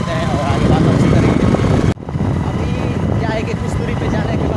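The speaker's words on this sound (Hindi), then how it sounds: "सो हमारी बाइक हो चुकी स्टार्ट और निकल चुके हैं यहाँ से।" A motorcycle rides along a road in India between Shrinagar and Bairiya, a loud steady engine and wind roar with a brief dropout partway through.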